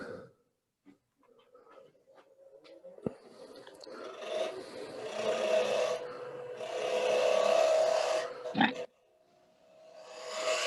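Wood turning on a lathe as a tool makes flaring cuts into a tubular piece: several rasping scrapes of a few seconds each, separated by short quiet gaps, fairly close and moderately loud.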